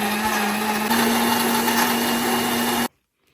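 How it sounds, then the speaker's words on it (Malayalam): A mixer grinder blends honeydew melon juice with honey, a loud steady motor whine that holds for about three seconds and then cuts off abruptly into silence. "മിക്സിയിൽ നന്നായിട്ട് അടിച്ചെടുക്കാം"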